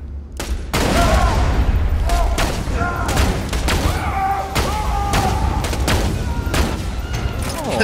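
Gunfire in the video game Borderlands 2, a run of loud, close shots spaced irregularly through the stretch, each with a sharp crack and a short ringing tail, over a low rumbling game backdrop.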